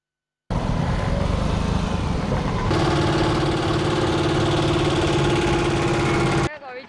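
Tractor engine running at a farmers' protest over fuel prices, a loud continuous mid-pitched drone with a steady harmonic hum, lasting about six seconds before cutting off, with speech tags suggesting voices mixed in.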